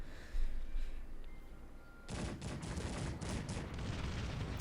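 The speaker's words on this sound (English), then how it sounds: "Another bombardment incoming." Artillery bombardment in the Cossacks 3 strategy game, with a sudden burst of dense, crackling gunfire and booming cannon fire erupting midway and continuing loud and sustained to the end.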